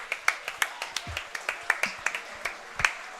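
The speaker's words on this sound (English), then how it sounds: "Round of applause for Tomo here" An audience at a Squidstorm 2017 Splatoon tournament losers' semifinal claps in a crisp, rhythmic burst of applause, with a few low thumps and faint voices underneath.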